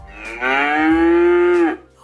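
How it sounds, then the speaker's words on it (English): A cow gives one long, loud, close moo that rises slightly and holds steady before cutting off, heard alone with a quiet background. "what sound does a cow make? Here's a cow sound."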